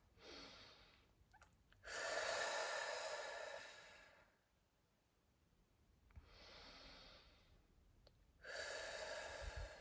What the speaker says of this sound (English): you're going to take your 3 deep breaths, inhaling and exhaling longer than inhaling in love